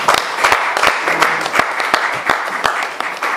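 Audience applause at a press conference ahead of a May 2022 concert: a short burst of clapping from a small crowd, close and fairly loud, with sharp individual claps standing out.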